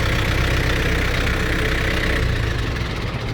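A tractor engine runs steadily up close, a loud continuous low rumble with a slight knocking throb and no pauses.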